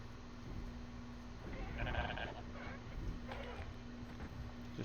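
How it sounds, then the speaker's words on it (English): Goats bleating in the game Pax Dei: a faint, drawn-out bleat partway through, set against a steady low hum of game ambience. "I think I see a couple more goats down there."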